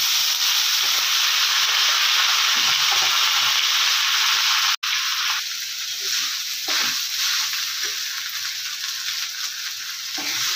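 Soaked sabudana (sago) goes into a hot pan for khichdi and fries with a loud, steady sizzle and hiss. A brief clatter comes midway, then softer stirring scrapes continue under the frying.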